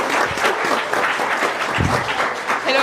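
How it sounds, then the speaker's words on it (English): Audience applause at a pro tennis event greets a former tennis champion co-host, a dense, steady wash of clapping lasting the whole stretch with no voices over it. "So a big applause to her"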